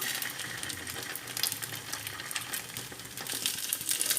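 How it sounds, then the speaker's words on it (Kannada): Aloo dosa batter crackles and sizzles steadily on a hot oiled pan, a soft close frying hiss with scattered pops and a few sharper ticks, faint and alone. "ಈಗ ದೋಸೆ ಹಾಕ"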